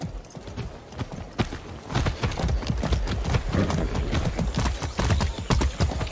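A horse's hooves clip-clop at a steady riding pace in the Far Cry 6 video game, with rhythmic, fairly close thuds over faint background ambience.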